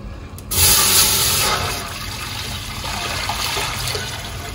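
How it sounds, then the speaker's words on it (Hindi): Water pouring into a cooking pot for boiling white rice while making chicken biryani: a sudden rushing splash begins, then settles into a steady, fairly loud gush of filling liquid that continues to the end. "इसमें पानी शामिल कर लूँगी।"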